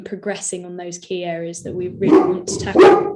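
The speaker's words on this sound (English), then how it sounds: "Apologies for my dog." A pet dog barking and yipping at home in a series of loud close barks that overlap someone speaking at an online council meeting.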